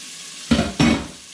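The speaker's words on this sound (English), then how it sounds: "So now to this pan we'll add the onions over low heat and just sweat those off" Onions hit a pan over low heat to sweat for bucatini all'amatriciana, giving two short, close sizzling bursts a fraction of a second apart that quickly settle into a softer hiss.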